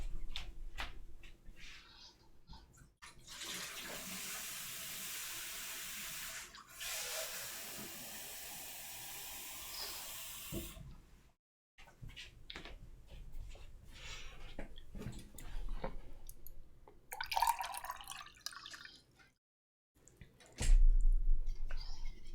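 Water runs from a tap in a steady broadband rush for several seconds, then stops, followed by scattered handling clatter and brief clicks and knocks.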